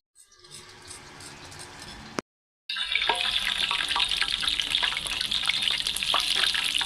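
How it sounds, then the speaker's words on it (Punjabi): Garlic fries in hot ghee for a dal tadka in a village kitchen: a loud, dense, bright sizzle that breaks off briefly, then bursts back and crackles steadily at close range. "ਲੋ ਜੀ ਤੜਕੇ ਵਾਸਤੇ ਲਸਣ ਪਾ ਦਿੱਤਾ, ਦਾਲ ਤੜਕਾ ਲਾਣਾ ਤੇ ਲਸਣ ਪਾ ਦਿੱਤਾ"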